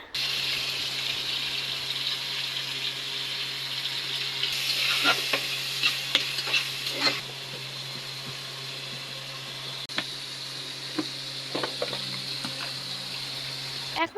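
Ginger garlic paste fries in hot oil for a taro and fish curry, a loud steady sizzle that flares with a few stirring clatters and then settles into a constant hiss.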